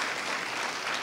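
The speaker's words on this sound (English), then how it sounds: "we all need to give ourselves a round of applause" Graduates of a high school commencement applaud in a dense, continuous wash of clapping at steady loudness throughout.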